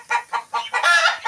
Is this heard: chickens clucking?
yes